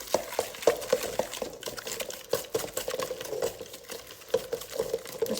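A spoon or spatula stirs and works a cracked egg into creamed gingerbread cookie dough in a bowl, giving steady scraping and clacking strokes at an uneven rhythm, close up with no talking.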